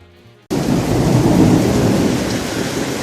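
A heavy thunderstorm hits abruptly after a brief quiet lead-in, with loud, dense, close rain pouring steadily and a deep thunder rumble underneath.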